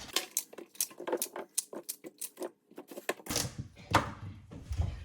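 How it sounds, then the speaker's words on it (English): Celery stalks and other produce chopped with a knife on a cutting board give a rapid series of close, crisp taps, followed by a rustling scrape of scraps being gathered. "So I'm gonna go ahead and cut all of this up."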